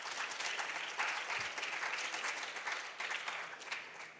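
Audience clapping for a school team at a junior science and maths quiz quarter-final, a steady, dense round of applause from a hall crowd that holds for several seconds.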